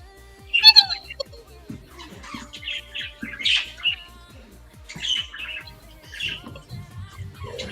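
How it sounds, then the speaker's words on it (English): A pet bird squawks and chirps in repeated bursts at close range, sharp calls scattered throughout, while people talk softly nearby. "Oh, look at the birdie."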